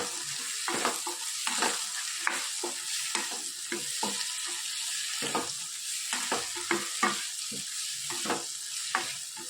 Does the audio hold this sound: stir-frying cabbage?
yes